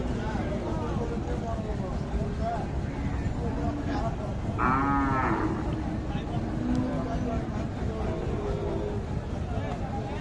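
A single short low from a bull rises briefly above constant crowd chatter and the noisy hubbub of many people outdoors at a cattle market.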